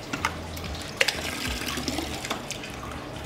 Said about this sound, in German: Dazu lasse ich jetzt nochmal einen Kübel Wasser runter